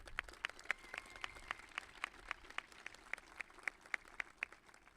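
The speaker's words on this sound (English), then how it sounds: "You can give them a round of applause" Audience at a CT River Academy high school graduation clapping, a faint, steady rhythm of distinct individual claps at an even pace, sounding sparse and somewhat distant.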